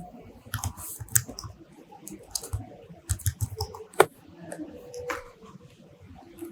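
Close computer keyboard typing during a software design tutorial, irregular bursts of key clicks with short pauses and one sharper tap, heard alone without talk.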